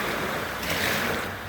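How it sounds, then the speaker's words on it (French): Ocean waves wash onto a beach on a late-summer weekend, a steady broadband surf roar with a slight swell in the middle, continuous and fairly close, with no voices. "Regarde, il y a toujours des vagues."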